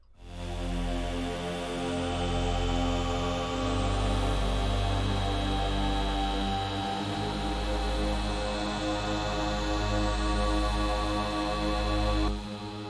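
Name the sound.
three simple synth pad sounds each playing a single note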